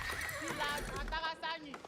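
Horse neighing in the Age of Empires strategy game, a whinny with clip-clop hooves, heard under continuous talking during gameplay.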